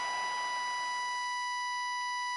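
An end-of-quarter buzzer sounds in an NBA video game at the Barclays Center, a steady electronic tone held alone for a couple of seconds, moderately loud over faint background noise.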